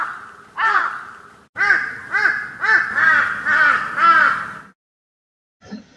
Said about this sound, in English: Sounds like a bird, which means it's nighttime.